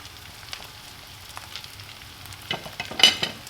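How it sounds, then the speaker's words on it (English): Flour fries in the leftover oil of a bacon and pork sausage soup pan, a soft crackling sizzle with a few louder stirring scrapes and pops near the end. "We'll just fry that flour off in what's left of any oil."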